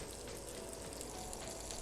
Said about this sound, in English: Oof, they're frying good.